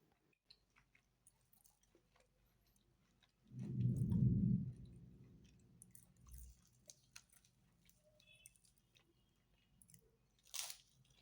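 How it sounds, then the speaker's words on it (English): Someone chews crunchy puff puff close up, with a burst of crunchy, squishy mastication in the middle, then softer mouth clicks and smacks in near silence. "I think you should hear how crunchy it was in my mouth."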